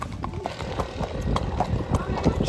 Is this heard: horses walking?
yes